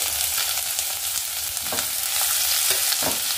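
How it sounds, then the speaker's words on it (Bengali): A ground masala of garlic, small onion and chili fries in a pan for an egg curry, a close, steady sizzle broken by a few sharper spatters and stirring scrapes. "দিয়ে এবার মশলাটাকে ভালো করে আমি ভেজে নেব।"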